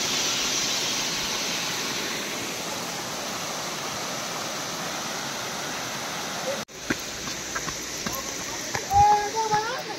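Water pours down at Bhushi Dam in a thin monsoon flow, making a steady rushing hiss that suddenly cuts to quieter outdoor ambience with voices talking.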